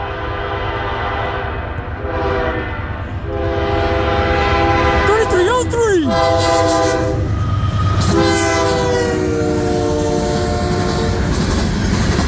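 A CN freight train, U723 hauled by locomotive CN 3303 (AC44C6M) at Ladysmith, Wisconsin, rolls past with empty cars, its horn blowing loud sustained blasts over the rumble and clatter of wheels on rail.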